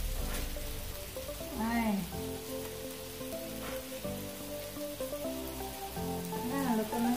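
Scallops sizzle steadily on an indoor electric grill, a constant close frying hiss with faint background music and a brief exclamation from a voice.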